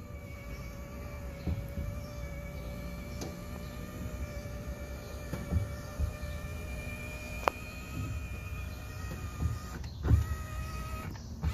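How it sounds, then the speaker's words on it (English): Electric awning motor on a Keystone Cougar 29BHS travel trailer running steadily for several seconds, a continuous mechanical whine with faint clicks and small bumps at a moderate distance, without speech. "Then you can run the awning in and out from out here."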